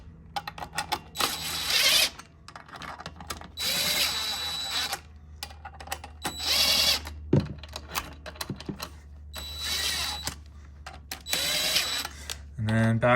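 An impact driver tightens clutch weight bolts on a Polaris RZR 9R fitted with a Bikeman Snypr clutch kit, firing in several loud, buzzing bursts of about a second each, separated by clicks and short pauses.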